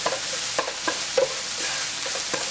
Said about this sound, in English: So now I'm just stirring it around, trying to mix things up so it's got a uniform color.